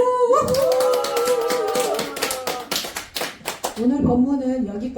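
After a call to clap louder, a Buddhist temple congregation gives a fuller round of applause, dense overlapping hand claps running for a few seconds beneath a speaking voice that fades as talk resumes.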